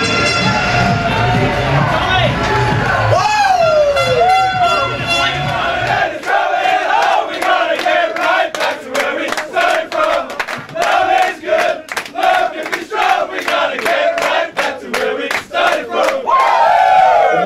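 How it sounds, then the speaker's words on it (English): Ice hockey crowd at a Telford Tigers versus Basingstoke Bison game rising to its feet and cheering, a loud sustained roar with whistles, shouts and rhythmic clapping, with an air horn blast early on. "the crowd stand on their feet and cheer Tommy Watkins' men."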